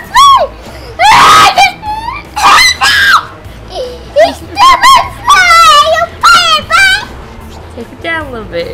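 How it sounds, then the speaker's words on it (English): A child screams while playing the video game Cel Damage with a parent, letting out repeated loud, shrill squeals and shrieks in bursts, mixed with excited talking. "I don't think they want to hear you screaming though"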